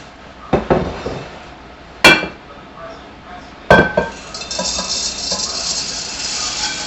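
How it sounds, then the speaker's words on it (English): Ceramic bowls and dishes clinking and knocking together in a kitchen as a bigger bowl is fetched, three sharp clatters followed by lighter rattling and shuffling. "Just going to go ahead and get a bigger bowl."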